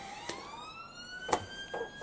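Ambulance sirens wail faintly in the background, a steady rising tone running throughout with a few soft knocks nearby and no talking.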